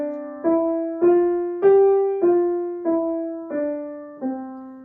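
Seven piano notes are played legato under a slur, each one flowing smoothly into the next in a rising and falling pattern, clear and close with no gaps between them.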